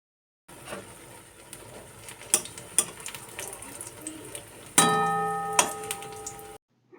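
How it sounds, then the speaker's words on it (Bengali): Eggplant slices fry in hot oil until reddish, giving a steady sizzling hiss with scattered sharp pops and ticks, plus a louder burst of crackling near the end. "যেভাবে আমরা বেগুন ভাজা করি ওইভাবেই কিন্তু বেগুনগুলোকে লাল লাল করে ভেজে নেব"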